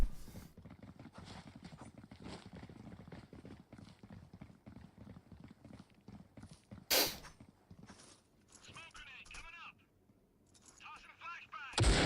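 Desert Eagle shots ring out in a competitive video game match, a loud sharp burst midway and another at the end, with clicks and footsteps under steady talking.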